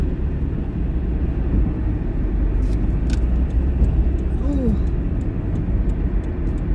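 Road traffic passes at night, a steady broadband rumble of vehicles throughout, with brief clicks and a faint voice-like chirp mid-way.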